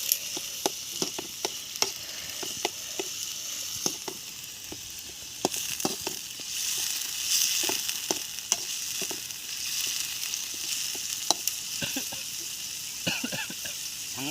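Onions fry in a pan while cooking country chicken leg curry outdoors, a soft continuous sizzle running beneath sharp, scattered clicks and taps of a utensil against the pan.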